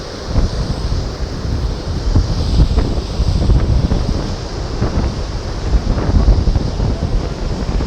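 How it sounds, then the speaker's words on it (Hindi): Sea waves with a strong current at Somnath on the Gujarat coast roar steadily amid heavy wind buffeting the microphone, a loud continuous wash with swelling surges and no talk. "यहाँ पानी के समुद्र का बहाव बहुत तेज़ है"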